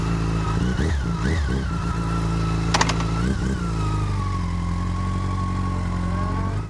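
A $1200 motorcycle engine runs steadily close by on a test ride, a continuous mid-pitched drone with a few small throttle swells early on, no talking.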